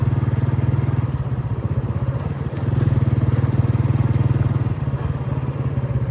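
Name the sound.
motorcycle being ridden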